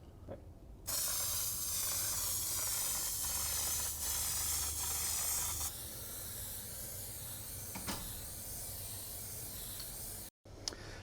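Würth Quattro spray paint going on as a second coat: a loud, steady aerosol hiss runs almost unbroken for about ten seconds, easing slightly partway through, then cuts off abruptly with a brief final spurt.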